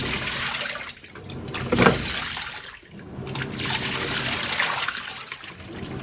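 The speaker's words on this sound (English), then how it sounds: "this is the final rinse, so it's added the sanitizer." Water sloshing and churning inside a Panasonic 9.5 kg top-load washing machine during its final rinse with sanitizer added, a steady broadband wash of liquid noise with surges, heard alone.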